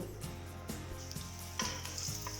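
Chopped onion sizzles in two tablespoons of hot cooking oil, a steady close frying hiss broken by a few stirring scrapes, with no talking.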